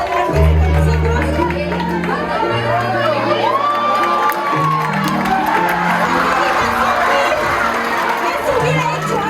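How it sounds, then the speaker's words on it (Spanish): A circus audience cheers and shouts loudly, with children's voices and a crowd roar throughout, over a bed of music with announcer talk mixed in. "¡aplausos para Sofi!"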